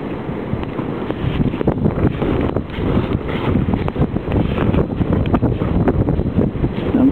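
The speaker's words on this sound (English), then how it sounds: "That wind's blowing like a son of a gun." Strong wind gusts steadily buffet the microphone during a walk outdoors in a snowstorm, a dense continuous roar with uneven surges and no voices.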